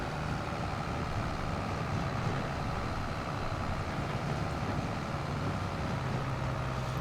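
A brand-new tractor in Farming Simulator 25 idles with a steady, low diesel drone, constant and close, with a faint hum above it and no talking.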